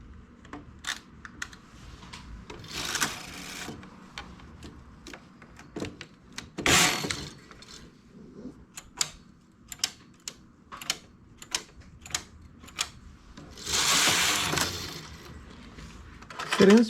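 Dry clicks and sliding clacks from a knitting machine carriage running rows of two-strand yarn, with bursts of louder whooshing passes between scattered ticks, close and moderately quiet.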